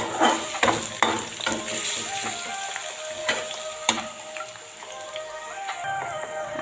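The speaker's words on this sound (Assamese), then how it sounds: "এতিয়া সকলোখিনি মই ভাজি থাকিম।" Ginger-garlic paste with chillies sizzles steadily in a hot pan, with a constant crackling frying hiss and occasional sharp ticks and scrapes of stirring, close and alone without voices.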